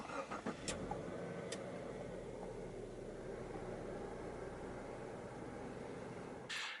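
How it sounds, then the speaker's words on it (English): A 2017 Subaru Levorg GTS wagon starts by push button: a brief crank and catch at the start, then a steady, fairly quiet idle hums on, with a faint click near the end. "simply put your foot on the brake and hit the engine start-stop button to go"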